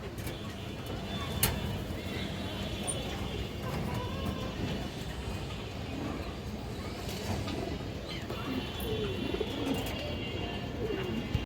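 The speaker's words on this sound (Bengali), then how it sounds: "সিলভার মাদি কবুতর আছে" Pigeons coo in a loft holding a silver female among other fancy breeds, a steady low murmur of overlapping calls with faint traffic in the background.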